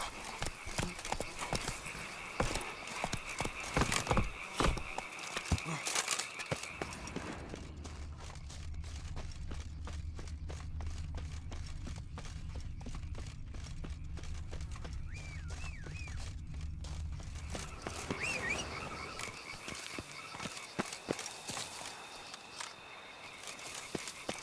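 Horse hooves clip-clopping in the video game The Witcher 3: Wild Hunt, a steady rapid rhythm of hoofbeats that grows denser mid-clip over a low rumble of wind and game ambience, with no talking.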